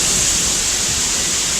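Water rushes steadily at Alimbuyao Waterfalls, a tall falls in Bolinao. The sound is a loud, dense, unbroken hiss, close and constant, with no voices.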